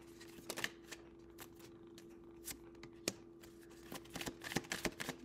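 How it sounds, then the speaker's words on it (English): Tarot cards are shuffled close by in a run of crisp riffling flicks and soft slaps, quiet and uneven, with no talking. "Just get these cards out."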